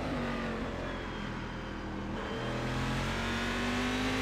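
Race car engine in a sportscar challenge at Donington, holding a steady loud drone near its limit, with a sustained harmonic whine that rises slightly toward the end; no talk.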